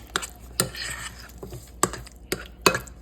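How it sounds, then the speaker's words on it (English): Deviled egg yolk filling is stirred in a bowl: a handful of sharp utensil clinks and taps against the dish, spaced irregularly between soft scraping, close and with no voices. "Now I'm going to stir this up."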